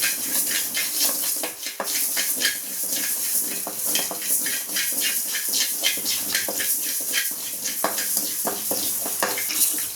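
Tomato thokku sizzling and frying in a pan, a steady bright hiss with crackling bursts and occasional stirring scrapes, close and continuous with no talk.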